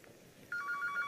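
A telephone starts ringing partway through, a quick repeated electronic trill that is faint but clear, with no voices over it.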